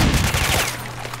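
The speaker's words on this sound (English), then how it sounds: "This shotgun is far more effective than I ever would have dreamed." A shotgun fired in STALKER: Shadow of Chernobyl, a loud close blast with rapid reports at the start that quickly fade into a low ringing tail.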